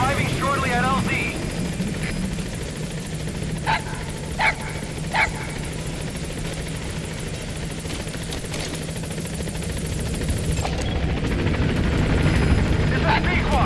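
The Pequod helicopter arrives at the landing zone in Metal Gear Solid 5: The Phantom Pain, a steady, loud rotor drone throughout, with a brief voice early and a few short game sounds over it.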